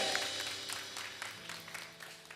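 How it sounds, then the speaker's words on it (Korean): Church congregation at a youth worship service claps together in a moderate, fairly steady burst of applause, with a faint tonal hum from the hall underneath. "우리 하나님께 영광의 박수를 드리겠습니다."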